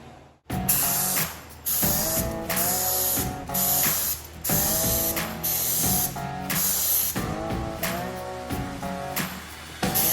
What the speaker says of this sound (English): fire the compressor up, get some more primer on it